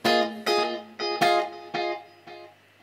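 Electric guitar played with compression, reverb and a quarter-note delay: a series of chord stabs, each ringing out with echoing repeats that gradually fade, close and clear with no talk.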